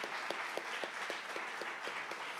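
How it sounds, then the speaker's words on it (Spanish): A church congregation applauds during a Sunday morning sermon, a steady wash of many hands clapping with a few sharper claps popping out at a regular beat, moderately distant and even throughout. "¿No le da un aplauso al Señor por ello?"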